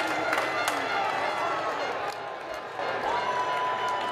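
Crowd of about 500 away football fans roaring and cheering a goal at a stadium, a broad sustained wash of voices with claps and shouts that stays loud throughout, dipping briefly midway.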